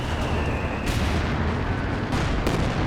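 Heavy artillery fire in a Company of Heroes 2 match during a 2v2 battle with Soviet T-34 tanks and Shermans: loud, dense booming barrage with sharp blasts near the start and again near the end, continuous rumble between.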